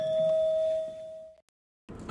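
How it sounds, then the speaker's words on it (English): A phone rings on a live game show talk broadcast: one clear, sustained electronic tone that decays and stops, followed by a short silence before other noise returns. "your phone is ringing there"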